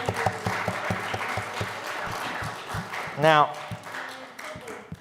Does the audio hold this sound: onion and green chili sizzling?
no